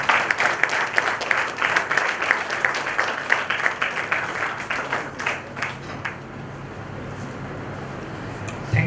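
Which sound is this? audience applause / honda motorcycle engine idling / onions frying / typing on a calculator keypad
audience applause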